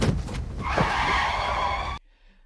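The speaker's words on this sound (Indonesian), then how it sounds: "Tiba-tiba mobilnya menabrak seseorang." A car skids with a long, loud tire screech that holds steady for over a second, then cuts off abruptly into near silence.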